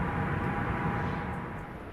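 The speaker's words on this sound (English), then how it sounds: "so you can also hear the exterior gear sound as the plane touches down, as well as some more Doppler effect" Exterior airplane sound from the GeoFS flight simulator with an added sound pack: a dense, steady engine and wind roar that fades slightly toward the end, with no talking.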